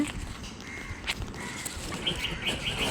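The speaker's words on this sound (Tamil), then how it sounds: "கொண்டை குருவினும் சொல்லுவாங்க புல்புல் குருவினும் சொல்லுவாங்க" A red-whiskered bulbul calls from a small mango tree outdoors, giving a few faint, short chirps and whistled notes over steady background noise.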